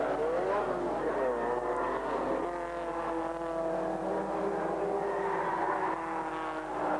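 A production racing car in the 1988 Uniroyal Production Car Championship drones steadily on track, its engine note holding a sustained harmonic whine that shifts pitch partway through as it changes speed, heard from on board under a commentator's voice.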